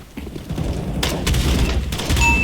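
Rapid bursts of gunfire from a shooter video game, a loud volley of shots starting about a second in and continuing in close, sharp cracks over a low rumbling game background.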